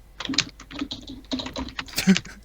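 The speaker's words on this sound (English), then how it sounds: "Who's typing? The early noughties keyboard of. Clack, clack, clack." Rapid, uneven clacking of keys on an early-2000s computer keyboard, steady and fairly close with no voices over it.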